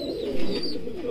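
A Yellow Moon Pomeranian pouter pigeon at a fancy pigeon farm gives a short, low, steady coo that swells briefly and then holds, fairly close and with no talking.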